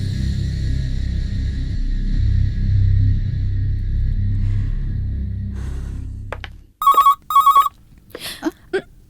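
A telephone rings in two short bursts after a stretch of low rumbling background, the ring loud and close, followed by brief faint sounds; no one talks.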